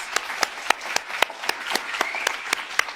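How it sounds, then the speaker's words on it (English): A men's event audience claps after a video, a modest scattering of distinct, sharp claps in a loose rhythm, fairly close and clear rather than a dense roar. "Let's give that video one more round of applause."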